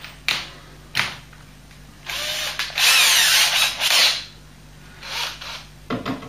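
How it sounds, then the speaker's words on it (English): A cordless drill bores out rivets from a Ford Cortina Mk3 car panel, several short whirring bursts and one longer grinding run, close and loud with pauses between. "drill coming in, charged up and ready to go. Let's just see, take these rivets out."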